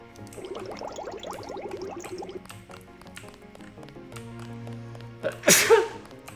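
A single sudden sneeze bursts out near the end, loud and close, after a stretch of trickling, dripping liquid sounds and a low steady hum.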